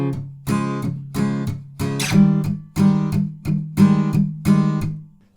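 Guitar strumming of a song: about eight rhythmic strummed chords, mostly palm-muted and subtle, with unmuted accents on the third and fourth beats, clear and close with no talking.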